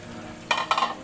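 Food simmering in coconut milk in a pot: a low, steady bubbling base with two short scraping stir strokes, close and fairly quiet, no talking.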